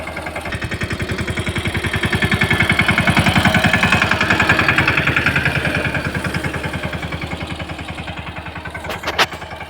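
A tractor engine runs in a farm field with a loud, close, steady chugging beat that swells and eases slightly, followed near the end by a brief metallic clatter.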